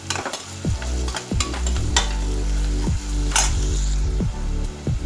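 Sliced onions cooking in a pan with crushed garlic and salt for a mutton roast give off a steady close sizzle, with several scraping stirs from a spoon across the pan.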